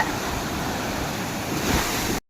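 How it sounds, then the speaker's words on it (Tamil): Ocean surf breaks and washes on Pondicherry beach, a steady loud rush of waves mixed with wind buffeting the microphone, holding for about two seconds before cutting off abruptly. "எவ்வளோ அலைலாம் வருது பாருங்க"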